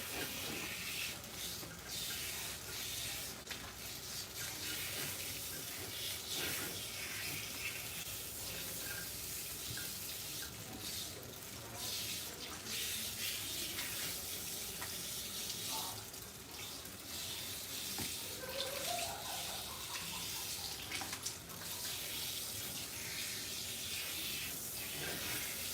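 Running water pours steadily while shampoo is rinsed out of hair on a wash day, a continuous hiss and splash that holds through the whole stretch with small shifts as the stream hits hair and skin.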